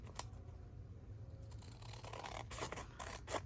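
Scissors snip through an old paper envelope in a few quick, faint cuts with soft paper rustling and scraping, close and quiet.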